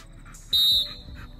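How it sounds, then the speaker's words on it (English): One short, sharp, high-pitched whistle blast sounds during a ring sport dog training session, calling the dog back. It lasts about a quarter second over faint background noise. "Again, repeat the whistle."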